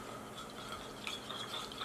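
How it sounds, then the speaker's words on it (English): A whisk beats a vegan sushi mixture in a bowl, giving a steady, fast scraping and clicking texture that stays fairly quiet and close throughout, with no talking. "the whisk will make it mix better"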